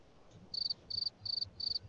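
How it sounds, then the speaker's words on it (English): Four evenly spaced, high-pitched chirps from a cricket-like insect, each a short buzzing trill, fairly close over a quiet low background hum. "It's like crickets."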